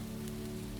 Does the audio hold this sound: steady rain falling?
yes